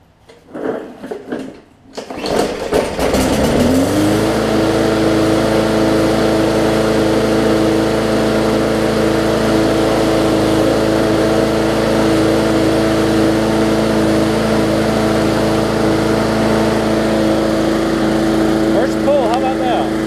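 A Briggs and Stratton engine on a Bolens push mower catches after a few sputtering pulls, then settles into a loud, steady close-up idle that runs on unbroken.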